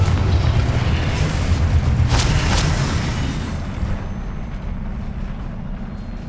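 In Hogwarts Legacy, a Confringo blasting spell detonates: a loud, deep booming explosion with a sharp crack partway through, then a rumble that slowly fades.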